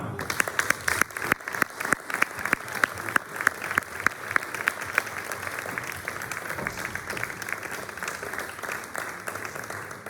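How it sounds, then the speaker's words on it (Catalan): A crowd at a final municipal election rally for Junts Sant Climent in 2023 applauds its team, rapid clapping starting with a few sharp claps and settling into a steady, moderately distant roar of hands lasting about ten seconds. "Un fort aplaudiment pel nostre equip."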